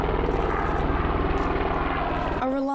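An Australian Army UH-60M Black Hawk helicopter drones close by with a dense, pulsing rotor thump and engine whine, continuous and loud, before it cuts away abruptly.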